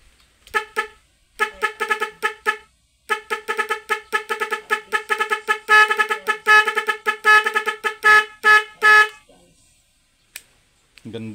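Papapdol horn on a Skygo 125 motorcycle honking loudly in quick, rhythmic bursts of bright, multi-tone toots that speed up and lengthen before stopping, with a brief voice at the end.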